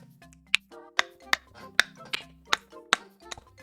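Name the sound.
click track imitated with finger snaps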